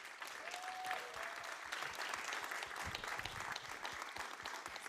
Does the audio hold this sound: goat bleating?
no